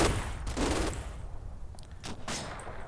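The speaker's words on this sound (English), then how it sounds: "Just the MG42s by the looks of it." Bursts of MG42 machine gun fire in the war game Combat Mission, rapid rattling volleys repeating in short clusters at moderate loudness with no voices.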